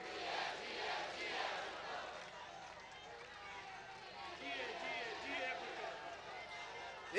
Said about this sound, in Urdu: ان کے لیے ایک ہی نعرہ ہے، نعرے نعرے نعرے بھٹو